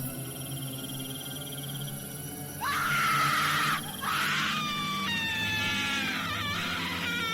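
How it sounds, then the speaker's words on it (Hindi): A girl's shrill, terrified scream used as a scary story sound effect, loud and close, rising in two long wailing bursts with a short gap between them over a low steady hum. "वह चीख रही थी"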